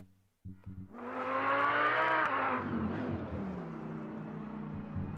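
A race car engine in the Automobilista 2 racing game revs hard in an instant replay, rising to a loud high whine, then settling into a steady droning pass, with no talk.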